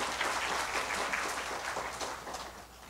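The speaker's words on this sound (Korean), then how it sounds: "큰 박수로 총장님을 맞이하여 주시기 바랍니다" An audience at a university orientation claps steadily to welcome the university president, a dense wash of applause that gradually tapers off toward the end.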